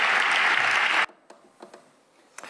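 Applause at a political rally on Catalonia rings out loud and dense for about a second, then cuts off sharply, leaving quiet room noise with a few faint scattered sounds.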